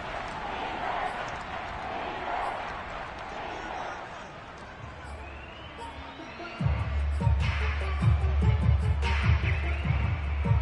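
A football video game crowd roars in a broad, swelling wash behind a commentator's voice, then thuds and rumbles take over near the end.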